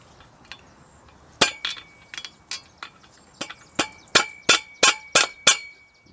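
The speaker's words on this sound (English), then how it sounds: "Tap it in, it goes straighter. See? So use the socket." Metal socket tapped to drive a U-joint cap into a 1998 Toyota Tacoma 2WD driveshaft yoke: sharp metallic clinks, sparse at first, then a steady run of evenly spaced louder strikes, close up with no talking.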